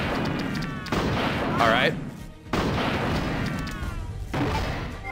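Gunfire in the Resident Evil 2 video game, played on PC: dense bursts of shots and loud booms fill most of the span, with brief lulls between, heard under someone talking over the game.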